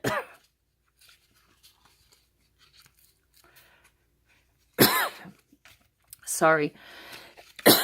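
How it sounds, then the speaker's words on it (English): A person coughs at a yard sale while showing junk-journal papers: a short cough at the start, a quiet stretch, then a louder burst of coughing, with a brief spoken word afterwards. "Don't mean to keep coughing here."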